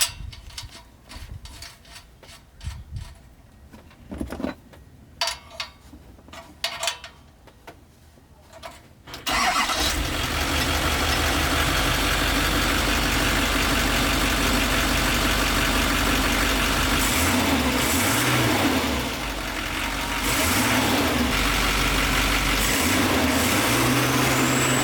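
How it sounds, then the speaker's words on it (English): A diesel truck engine, just fitted with an EGT probe in a weld-in exhaust bung, cranks and starts after some quiet clanks. It then settles into a loud, steady, rumbling idle close by, dipping briefly once before evening out, with no talking. "I'll just put the probe in it and start the engine and see how it sounds."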